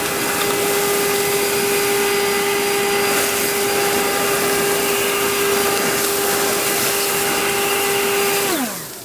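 A Ryobi 36V Whisper Series battery leaf blower runs at full power with a loud steady whining hum and airy rush, holding constant for several seconds before winding down sharply at the end.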